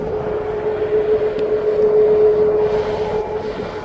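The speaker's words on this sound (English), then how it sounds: "Here goes that flight down to Malaga." An airliner departing East Midlands Airport for Malaga roars with a loud, steady engine drone and a sustained tone that swells and then fades slightly, with no voices.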